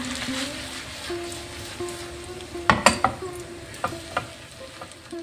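Street-style chow mein being stirred and mixed in a pan, a steady frying sizzle with soft scraping, then a cluster of sharper utensil clinks against the pan near the middle and a few more toward the end.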